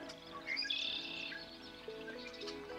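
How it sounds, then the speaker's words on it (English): Blackbirds calling by a wetland marsh next to a lake, giving clear whistled and trilling calls, one bird fairly close over quiet background, with fainter calls later. "Some blackbirds right there."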